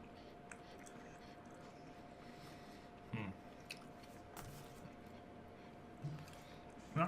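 Someone chews an Italian snack, producing soft, sporadic crunches and squishy bites close to the mic over a quiet background hum, with a few louder crunches near the end.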